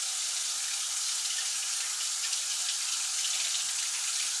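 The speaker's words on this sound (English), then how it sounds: "let's run some water" Warm tap water runs steadily into a pan, a continuous close hiss and splash with no breaks.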